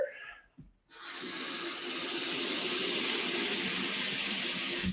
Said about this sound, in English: Just gonna fill up that ice cube tray before I go to bed.